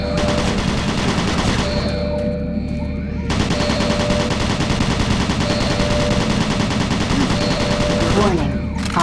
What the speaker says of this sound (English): Automated turret guns online.